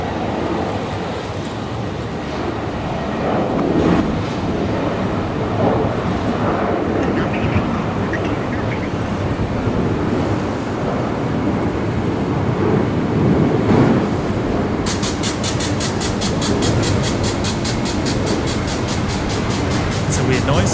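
A train near Brisbane Airport gives off a strange, sustained rumbling noise with a sharp pulsing buzz joining in near the end, heard loud and steady over a long stretch with faint background chatter.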